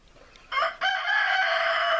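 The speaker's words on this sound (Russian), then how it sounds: "Вон петушара, главный петушара стоит" A rooster in a henhouse with a brooding hen and chicks crows loudly and close, a short opening note, a brief break, then a long drawn-out call with no talking.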